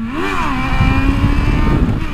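A motorcycle engine revs hard and steadily, its pitch sweeping up and down before settling into a loud, rough drone.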